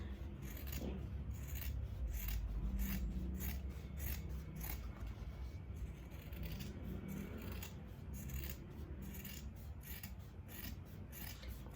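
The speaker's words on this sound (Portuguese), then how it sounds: "vou vir com a minha tesoura e vou cortar bem em cima dessa linha que eu fiz. Vou cortar a volta toda." Scissors cut fabric all the way around a drawn line for a hygiene kit, giving a close series of quiet, rhythmic snipping and rasping cuts.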